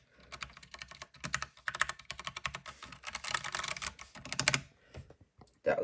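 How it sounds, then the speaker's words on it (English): Brown-switch mechanical keyboard with freshly installed keycaps being typed on steadily, a fast run of close, crisp keystrokes with brief pauses between bursts and no voices. "Let's give you guys a sound test for the brown switches."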